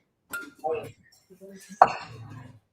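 Metal cooking pans being picked up and set down for stovetop use, a few clanks and clinks with one sharper knock, amid short bits of nearby talk.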